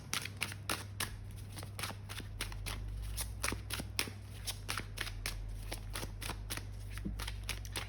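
Tarot cards are shuffled and drawn up close, a run of quick crisp flicks and riffles in uneven bursts over a low steady hum.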